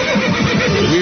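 A horse neighs loudly and up close in a broadcast playback, one long wavering whinny filling the whole moment with no talk over it.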